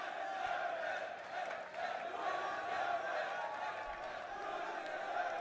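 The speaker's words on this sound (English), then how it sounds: "The crowd here chanting, "You deserve it."" A large wrestling arena crowd at a live Royal Rumble event roars in a dense, sustained wash of voices, with a rhythmic chant carried across the hall at a distance.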